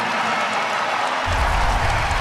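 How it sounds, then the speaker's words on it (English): Raucous basketball crowd roaring at the Ryan Center after Rhode Island ties the game, a broad steady wall of cheering and noise that swells louder midway through. "It's a raucous Ryan Center crowd."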